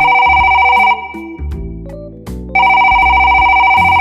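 A telephone rings loudly in repeated electronic trills, one burst, a pause with low background sounds, then another burst starting.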